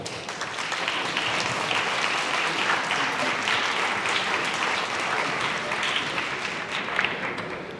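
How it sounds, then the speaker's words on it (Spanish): An audience at a Catholic education conference gives a sustained round of applause for a guest speaker, dense and even at moderate distance, holding steady for several seconds before easing slightly at the end. "Lo recibimos con un fuerte aplauso."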